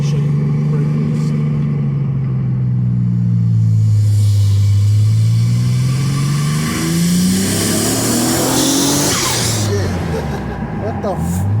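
A 1994 Mitsubishi 3000GT VR-4 with a 20T build making around 440 AWHP launches hard from brake release, its engine droning loud and close as the pitch sweeps up through the gears; voices can be heard underneath.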